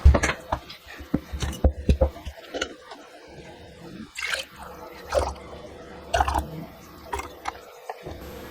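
Hot strawberry lemonade concentrate is poured and ladled into canning jars, giving intermittent splashes, drips and glassy clinks in irregular bursts, close up with no talking.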